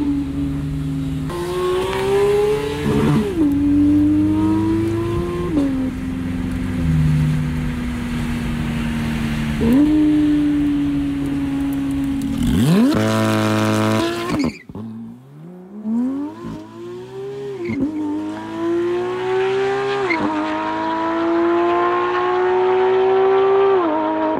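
A new Porsche 911 GT3 revs loudly and repeatedly on a country road through a farming village, its engine rising in pitch, dropping on shifts, then screaming up again, close and dominant with no talk.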